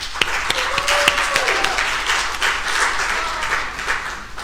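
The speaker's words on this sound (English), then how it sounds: "Can we give him a round of applause?" A conference audience applauds a panelist, a steady spread of close and mid-distance handclaps lasting several seconds.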